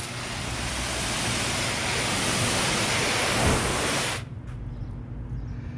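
Water sprays steadily onto a car hood during a water test before washing, a broad hissing rush lasting about four seconds before cutting off abruptly, followed by quiet dripping ambience.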